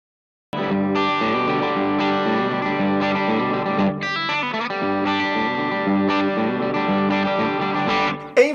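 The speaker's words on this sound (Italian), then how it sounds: "E tenendo premuto a lungo seleziono uno slap delay" Electric guitar through a slap delay effect, picked by a long press on a Morningstar MC6 Pro footswitch, plays a loud continuous phrase with a quick bright flourish midway and a short doubling echo, no voices present.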